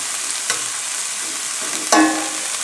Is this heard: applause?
no